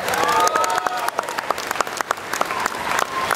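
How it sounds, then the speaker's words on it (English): Audience applause at RuneFest 2011, a RuneScape fan convention, with a dense spread of claps from a sizeable crowd and a few sharper individual claps and whoops over about three seconds. "another round of applause, please."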